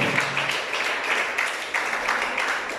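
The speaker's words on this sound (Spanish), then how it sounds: "Un fuerte aplauso al Señor." A church congregation clapping and cheering together, a dense continuous wash of applause at moderate loudness, slightly rising and falling.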